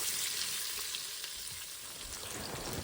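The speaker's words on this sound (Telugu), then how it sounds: "తరిగి ఉంచుకున్న ఉల్లిపాయ పచ్చిమిరపకాయ ముక్కలు వేయాలి వేసిన తర్వాత ఒకసారి బాగా కలిసేలాగా కలపాలి" Chopped onion and green chillies fry in hot oil for Telangana-style bagara rice, a dense close sizzle with faint stirring, steady and unbroken with no speech.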